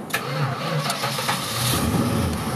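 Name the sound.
1966 Dodge Charger 383 V8 engine starting attempt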